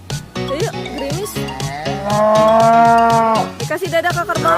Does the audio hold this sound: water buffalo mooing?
yes